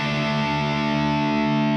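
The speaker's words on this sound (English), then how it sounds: "If we throw on our distortion," An electric guitar chord played through a distortion effect during a rock guitar lesson, ringing out as one loud, sustained, thick tone with no strum or talking heard.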